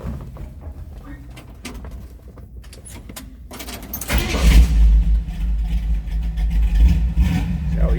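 A 1953 Chevrolet 3100 pickup street rod engine cranks and catches, settling into a loud, steady low rumbling idle that fills the second half after a quieter stretch of ambient noise.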